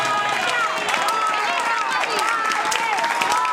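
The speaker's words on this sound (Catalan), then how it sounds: "Però demane un aplaudiment a aquests tarotistes" Audience at a school end-of-year concert breaks into steady, dense applause with a few cheers, loud and close throughout.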